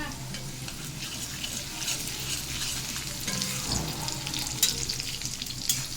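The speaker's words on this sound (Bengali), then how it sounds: "এদিক দিয়ে বুটগুলো বাগার দিব।" Chickpeas tempering in hot oil in a home kitchen give a steady, close sizzle and crackle, with spoon-stirring scrapes and a few sharper pops.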